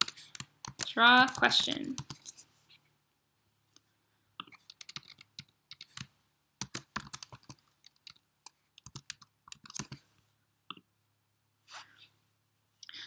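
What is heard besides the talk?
typing code on a computer keyboard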